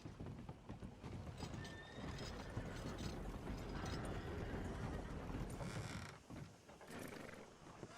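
Faint, irregular horse hoof clops in the video game Red Dead Redemption 2, with rattling, mechanical clatter underneath, steady and somewhat distant, with no voices.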